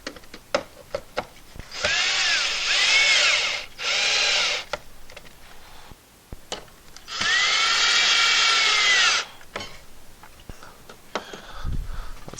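A power drill drives screws into wood for a pegboard saw hanger, two loud whirring runs of about two seconds each, close by, separated by a short pause and framed by light clicks and handling noise.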